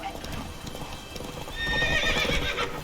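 Hooves of Roach, a horse in The Witcher 3, clip-clop steadily at moderate volume, with a whinny-like layer and game ambience swelling in the second half; no one speaks.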